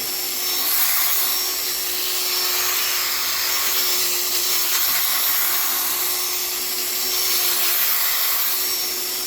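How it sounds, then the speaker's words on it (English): A buffing disc on a power tool sanding the headlamp lens of a 2010 Subaru Forester, with a continuous loud high-pitched whir and abrasive hiss rising and falling slightly. "I'm using the roughest grit sandpaper there is. It's not really a sandpaper, it's a buffing compound, or a buffing disc."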